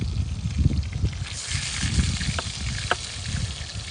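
Steaks fry outdoors in a pan made from a harrow disc, giving a close, crackling sizzle with low bubbling and a few sharp pops, heard without speech.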